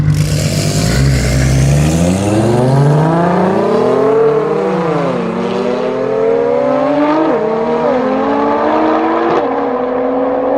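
A Volkswagen with a 115-horsepower engine in Need for Speed Underground revs hard and loud, its engine note climbing through the revs with several brief dips at gear changes before pulling upward again.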